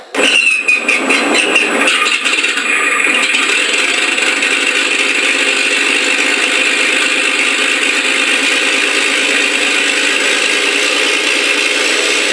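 Mr. RCSounds V4 engine sound system in an FMS Stuka RC plane starting up: a rattling, ratcheting mechanical crank settles into a steady, loud, continuous engine drone that holds unchanged throughout, with no talking.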